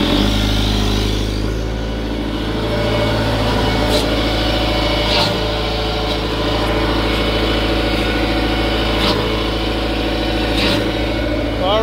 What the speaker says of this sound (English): All right, the motor sounds good.